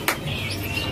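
A single sharp songbird chirp near the start, followed by a thin, faint whistling tone over steady background hiss.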